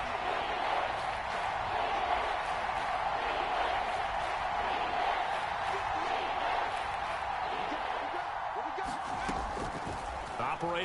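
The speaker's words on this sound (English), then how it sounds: "the crowd getting into it as we come up on a big 3rd down" A virtual stadium crowd in an American football video game roars steadily ahead of a big third down, a continuous wash of cheering and noise with a commentator's voice faintly over it.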